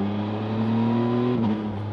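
A Yamaha MT-09 Y-AMT motorcycle engine drones steadily under load on a winding road, a loud close tone that rises slightly in pitch before a brief dip as it shifts, with no talk.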